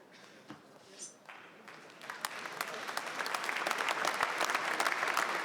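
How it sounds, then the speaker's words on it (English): Spectators applauding at the 2016 World Cup men's singles table tennis final between Fan Zhendong and Xu Xin: a few scattered claps swell into steady, rising applause across the hall, growing louder toward the end. "Crowd applauding good sportsmanship."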